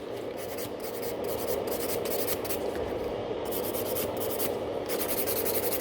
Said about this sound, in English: filing underneath is bringing the nails into a nice straight position rather than growing down